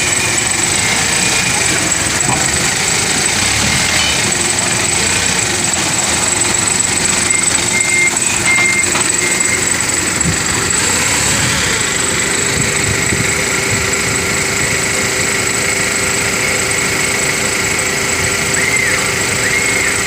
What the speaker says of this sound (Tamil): ஃபோர்க்லிஃப்டில் கண்டெய்னர்லேருந்து இப்படித்தான் ரொம்ப ஜாக்கிரதையாக இறக்குவாங்க.